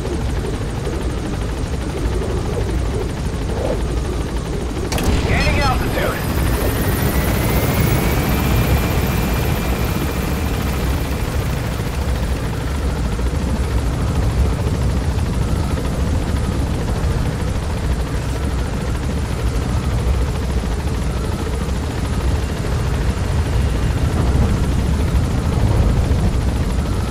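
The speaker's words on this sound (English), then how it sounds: "Gaining altitude." A helicopter in Metal Gear Solid V: The Phantom Pain climbs and gains altitude, its loud continuous rotor and engine drone filling the whole stretch after a sharp burst and a rising whine near the start.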